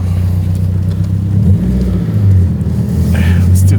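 A car with HKS coilover suspension rolls along on a test lap, its engine rumbling low and steady and swelling briefly as it revs, with a faint higher whine near the end.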